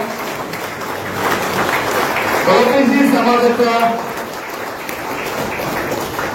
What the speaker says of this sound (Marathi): जोरदार टाळ्या आपण त्यांचं स्वागत करूया.